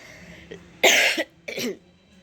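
Two harsh coughs close up, a loud burst followed by a shorter second one after a brief pause.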